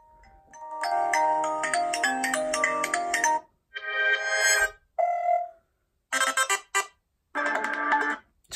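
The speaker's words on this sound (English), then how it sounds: "So just some standard ringtones." Several standard ringtones play one after another through the front-facing speaker of a Motorola Moto G6 Play phone, each a short melodic burst separated by brief gaps, loud and close with no talking.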